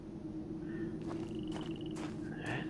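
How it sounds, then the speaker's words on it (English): A frog croaks in the video game Obduction, giving several short raspy calls over a steady low ambient drone, moderately close, with no speech. "I heard a frog"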